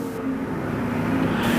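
Modified race cars in a Desert Thunder ModLite race roaring down the front straightaway, a loud, steady engine drone building slightly as they pass.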